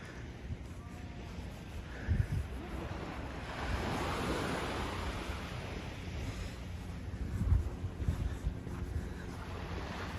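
Surf washing in on the shore at Coney Island beach at low tide in winter: a steady broad wash of waves with gusty wind buffeting the microphone, with a couple of louder surges, no voices.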